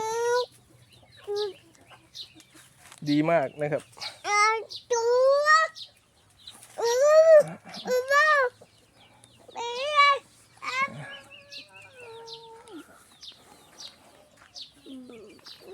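Burmese fighting chickens on a farm, with soft clucks and coos scattered around someone speaking Thai through most of the stretch.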